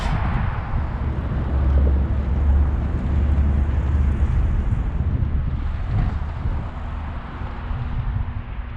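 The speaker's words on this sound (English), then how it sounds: "Winds are picking up now." Strong gusty wind blows through a forest, a loud continuous roar buffeting the microphone with rising and falling surges and no talking.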